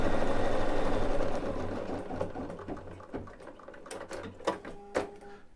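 An embroidery sewing machine stitches down a small piece of green fabric with a steady mechanical whir that slows and breaks into sharper clicks and thumps near the end, close and moderately loud.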